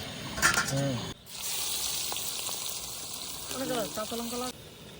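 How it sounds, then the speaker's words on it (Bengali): Whole garam masala and bay leaves fry in hot oil left from browning potatoes, a bright continuous sizzle that swells after a short pause, with a voice talking over it at the start and end. "ওই তেলের মধ্যে গোটা গরম মশলা, তেজপাতা দিয়ে নেবো।"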